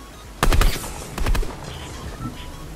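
Gunfire in a video game: two quick, sharp bursts of automatic shots about a second apart, close and loud, with faint background noise after.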